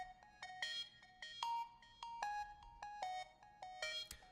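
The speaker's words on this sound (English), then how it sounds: "maybe we can just kind of experiment with the downsampling" Bright plucked synth notes in a quick repeating melody, with a gritty, lo-fi edge from an Ableton downsampling effect softening the tone; no talking.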